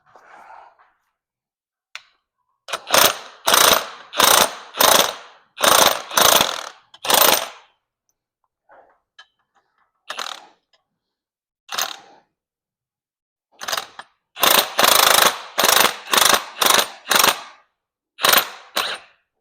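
Ratchet wrench tightening a nut on the front suspension of a Dodge Magnum during a front-end rebuild: several bursts of rapid, close clicking separated by short pauses, with faint handling noises in between and no talk.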